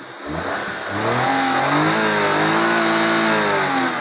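A 2006 Maruti Suzuki Alto LXi engine revs up steadily and holds at a high, smooth pitch, loud and close with no other sounds.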